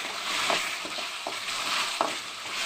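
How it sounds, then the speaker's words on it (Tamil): Mutton curry cooking over a high flame, heard as a continuous bubbling sizzle with occasional soft knocks of a spoon against the pot, close and steady with no voices. "ஹையில் வச்சு இன்னும் கொதிக்கிட்டு வருது."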